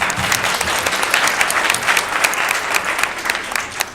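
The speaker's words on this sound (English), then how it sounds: "One more resounding round of applause for our panelists." Loud, sustained applause from a breakfast event audience for a panel, many hands clapping steadily throughout with no talking.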